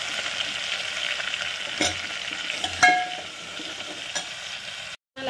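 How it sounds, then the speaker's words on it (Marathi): Mustard seeds, cumin, asafoetida, curry leaves and crushed garlic sizzle in hot oil for a tempering, a continuous close crackle with a few sharper pops and a brief stir, heard alone without talk. "आणि फोडणी करून घ्यायची."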